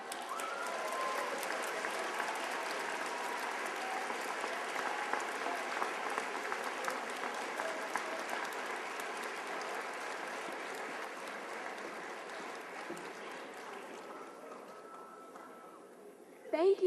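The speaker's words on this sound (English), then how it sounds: "please join me in another round of applause and congratulations to our recipient, Dr. Shakir Abdullah" Steady audience applause fills a ceremony hall at the Canton McKinley Pathfinders event for an award recipient, a dense, even wash of many hands that holds for most of the stretch and thins slightly toward the end.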